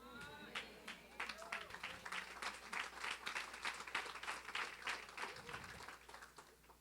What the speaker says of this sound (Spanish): Me gusta ese nivel de aplauso, me gusta.